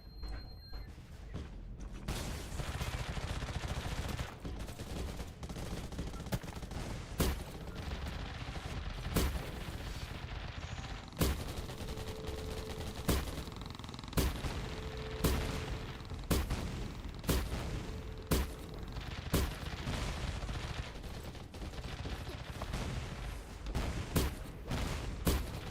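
Rapid bursts of gunfire from the online shooter Undawn during a live training match, sharp cracks and volleys repeating steadily across the whole stretch, loud and close with a constant battle din beneath.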